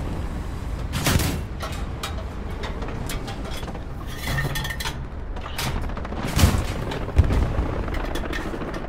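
Stuart light tank cannon fire in the war game Hell Let Loose: a sharp, loud boom cutting through steady rumbling battle noise, with further distant gunfire and thuds around it.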